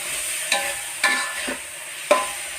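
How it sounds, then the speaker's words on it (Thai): Cabbage and minced pork being stir-fried in a pan, a quiet steady sizzle broken by four sharp scrapes of a spatula against the pan, close and without talk. "แล้วก็จะผัดไปเรื่อยๆนะคะ ผัดไปจนกว่ากระหล่ำมันจะสุกเด้ว"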